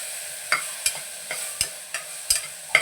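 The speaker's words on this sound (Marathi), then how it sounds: "तेलामध्ये परतून घेतले ना की एकदम अशी पालक नरम होऊन जाते." Spinach being sautéed in oil, heard as about eight sharp scraping spatula strokes against the pan at an uneven pace over a faint sizzle, with no talk.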